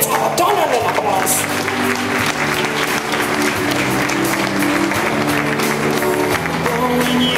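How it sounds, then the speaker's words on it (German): An audience at an equestrian show gives sustained applause and scattered cheers, dense and loud throughout, with a voice talking and tonal background sound running underneath. "Also Leute, jetzt aber donnernden Applaus."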